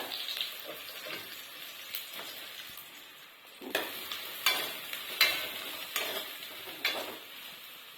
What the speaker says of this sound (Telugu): ఆయిల్ వేడెక్కిన తర్వాత మనము కట్ చేసి పెట్టుకున్న అరటికాయ ముక్కలు అయితే వేసుకుందాము